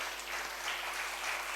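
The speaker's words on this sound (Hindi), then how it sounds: "जोरदार तालियों से स्वागत नहीं करेंगे दोस्तों?" Audience applause welcoming a guest at a Dalit literature academy award ceremony in Kamthi Kanhan; steady, moderately distant clapping fills the short stretch with no speech over it.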